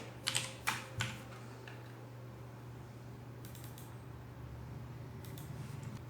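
A few quick keyboard key clicks sound up close at the start, then more scattered taps over a low steady hum.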